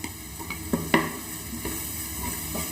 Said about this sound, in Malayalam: എന്നിട്ട് എല്ലാം കൂടി ഇളക്കി യോജിപ്പിച്ച് കൊടുക്കുകയാണ്.